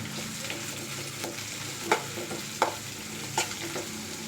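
Turmeric is stirred into a sizzling chitranna rice mixture in a frying pan: a steady fry hiss with several distinct scraping spoon strokes and clinks at irregular intervals, close and alone.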